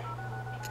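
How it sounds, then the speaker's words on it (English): Telephone keypad dialing tones from an emergency phone in a Roblox plane game, a short run of clear electronic beeps heard alone against a steady low hum. "I just dialed a random number."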